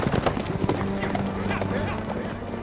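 A horse runs through an arena, its hoofbeats clip-clopping quickly amid crowd commotion, while people talk over the sound.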